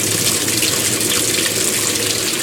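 Two Kenmore 80 Series top-loading washing machines, plumbed with a tee, fill with water in a steady, loud, close rushing hiss like an open tap, continuous with no talking.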